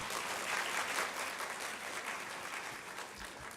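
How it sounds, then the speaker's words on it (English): Steady applause from a crowd for a keynote speaker at a university event, dense and sustained throughout at moderate level, with no pauses. "Big round of applause for him,"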